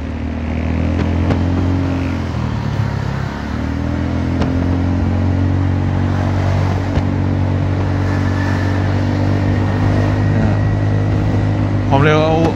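A Honda Forza 300 scooter engine held at a steady high drone while riding, continuous and loud with faint wind rush and a brief rising whine near the end.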